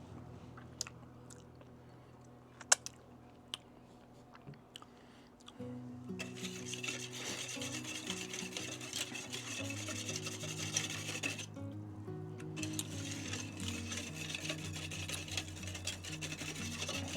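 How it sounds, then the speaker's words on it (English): Brown sugar broken down and mixed with molasses for smoking Atlantic cod and mackerel, heard as scraping and grainy rubbing that steps up into a steady, louder gritty stirring halfway through, with no talking. "Let's get our brown sugar broken down. Molasses mixed in there really good."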